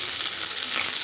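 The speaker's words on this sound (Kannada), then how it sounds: "ಈಗ ಇದನ್ನು ಚೆನ್ನಾಗಿ ನಾನು ಎಣ್ಣೆದಲ್ಲಿ ಫ್ರೈ ಮಾಡ್ಕೊತೀನಿ" Sliced onions fry in hot oil for a pepper chicken dish, a brief dense sizzle heard close and loud without any pause.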